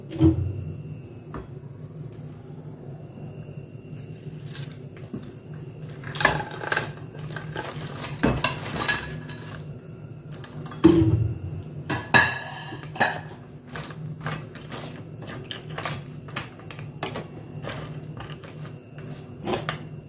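Prawns lowered into a simmering coconut milk curry and stirred: scattered clinks and scrapes of a spoon against a metal pot, with knocks and a few louder clatters over a low steady hum.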